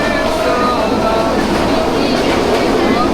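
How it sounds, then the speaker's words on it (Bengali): The Burimari Express running fast between Rangpur and Santahar, a steady, loud rumbling roar of wheels and carriages that holds without a break throughout. "আজকের ট্রেনটা সত্যি অনেক সুন্দর এবং অনেক গতিতে চলছে"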